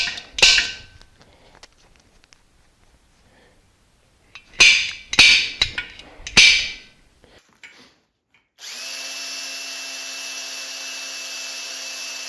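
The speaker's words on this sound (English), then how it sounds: "So we will center punch that." Several sharp metallic strikes from a hammer driving a center punch into metal, part of fitting new wheels to an engine stand, land in a close cluster of three or four loud hits after a few lighter taps, then a steady whirring tool hum takes over.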